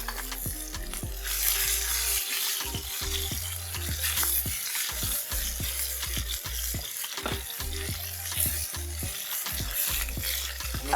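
Fish sizzling in a lightly greased pan on a restaurant kitchen stove in Abidjan: a steady, fairly quiet crackle with intermittent stirring and scraping, and no talk over it.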